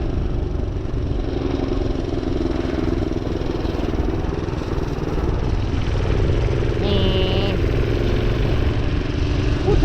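A minibike's small engine runs steadily outdoors on ice, with a continuous mid-pitched drone and clattering rumble that rises near the end, while a person talks over it.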